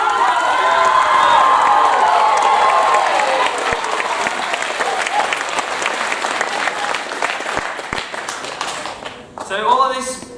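An audience at a Pacific Islander student association cultural event applauds and cheers loudly, dense clapping with whoops and shouts. It thins out toward the end, where a voice breaks through the fading applause.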